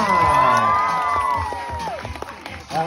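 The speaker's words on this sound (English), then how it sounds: "Blue team's cheering loud for a big finish around that barrel." A crowd cheers and whoops loudly at a dog agility run at the North Carolina Zoo, children's shouts mixed in, swelling at first and then tapering off, with a few claps near the end.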